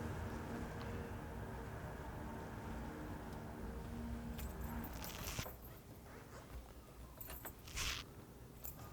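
Keys for a 1966 Chevrolet Chevelle are picked up, giving a few bright metallic jingles toward the end, after a stretch of low background rumble.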